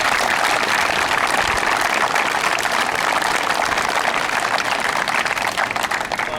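An audience applauds rescue volunteers at a mock accident drill, a steady dense clapping that holds loud and even throughout.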